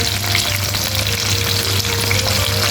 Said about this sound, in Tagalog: At medyo tignan natin yung ating piniprito.